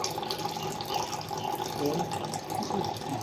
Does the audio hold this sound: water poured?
yes